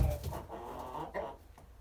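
A broody Livenska calico hen clucks in low, quiet bursts, soft and close within the hush of a farmyard stand, with no voices over the sound.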